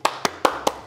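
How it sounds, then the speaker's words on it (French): Four sharp hand claps from a crowd warm-up cue on a French-language talk show, spaced evenly about a fifth of a second apart, crisp and close with no voices. "L'animateur de foule m'a dit d'applaudir"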